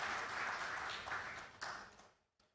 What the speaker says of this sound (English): Shall we clap for him?